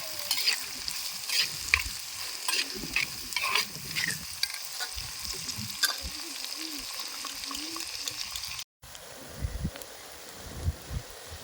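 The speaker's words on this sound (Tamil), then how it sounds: "வெங்காயம் நல்லா வதங்கி வந்ததும்" Onions sizzle and crackle steadily in a hot clay pot, with intermittent scraping and stirring strokes throughout, close and fairly quiet.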